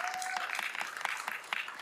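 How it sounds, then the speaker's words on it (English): Audience applause for a 2024 Campbell High School graduate at an honorary certificates ceremony: steady, dense clapping from a crowd that fills the whole short stretch at an even level. "Give them a round of applause."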